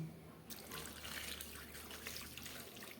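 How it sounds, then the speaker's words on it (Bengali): Warm water is poured over rinsed rita fish heads, a soft steady splashing and trickling that starts abruptly and continues close but fairly quiet. "এবার একটু এর মধ্যে উষ্ণ গরম জল দিয়ে দিচ্ছি।"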